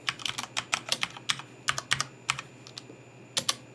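A password is tapped out on a computer keyboard as a quick burst of crisp key clicks, about a dozen presses in an uneven rhythm with short pauses, close and clear.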